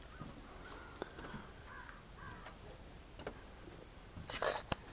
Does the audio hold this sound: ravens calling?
yes